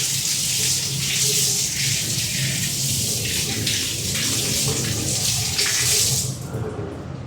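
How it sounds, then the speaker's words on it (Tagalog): Water runs steadily from a tap during washing up, a close, continuous splashing hiss that carries on for several seconds before easing off toward the end. "So ayan, tapos ng hugas, bilis lang kasi may tubig na."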